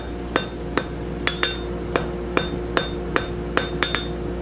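Hammer blows on a hot forged gothic door knocker piece, about eleven sharp metallic strikes at an uneven pace, some in quick pairs, ringing close and clear over a low workshop hum, with no talking.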